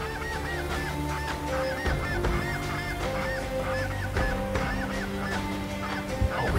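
A flock of geese flies in low over a Hudson Bay hunting spot in Canada, calling in a constant chorus of overlapping honks above a steady low rumble.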